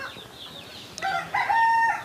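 Backyard hobby Golden Hassary chickens, with soft clucking followed by a rooster's short, loud crow that rises near the end, close by and with no voices.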